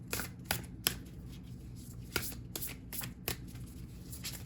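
Tarot cards being shuffled by hand, a series of crisp riffling bursts separated by short pauses, close and fairly quiet with no talking.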